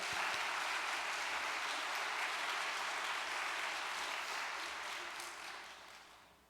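A church congregation applauds with steady, dense clapping that holds evenly and then tapers off toward the end.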